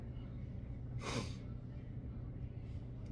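A single short, sharp cough bursts out about a second in, over a steady low background hum.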